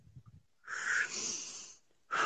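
Someone with eyes closed breathes deeply, taking one long, close, airy breath of about a second and a half, followed by the start of another. Faint soft sounds come before it, and nobody speaks.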